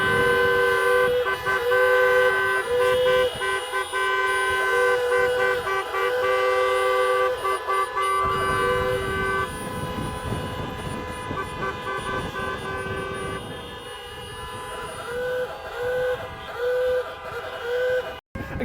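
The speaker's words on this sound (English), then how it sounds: "Excuse the brief interlude whilst we had the old horn salute" Car horns blare together in a horn salute at a motoring gathering, long sustained honks layered over idling engines, loud and close, with the chorus continuing through most of the stretch and thinning near the end.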